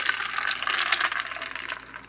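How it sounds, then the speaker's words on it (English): Ice rattles and clinks steadily against a glass as a sparkling water drink with syrup is stirred, a busy jangling texture close by. "Let's go ahead and stir this"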